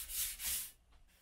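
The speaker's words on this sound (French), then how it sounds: "Je vais y mettre un coup de soufflette" Two short hissing blasts from an air blow gun clearing dust off plastic, each a bright whoosh lasting a fraction of a second, followed by faint quiet rustling.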